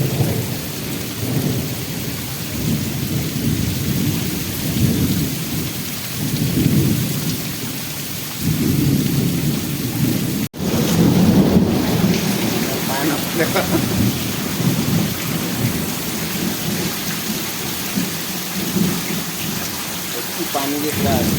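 Heavy rain pours steadily outdoors while thunder rolls and rumbles several times, with one sharp crack near the middle, and voices talk faintly under the storm.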